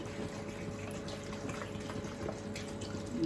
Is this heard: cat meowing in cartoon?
no